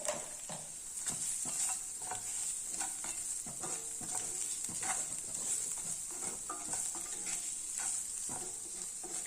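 Vegetables for soya chunk fried rice sauté in a hot pan with a steady bright sizzle, punctuated by repeated scraping stirs of a spatula throughout, close and continuous with no talking.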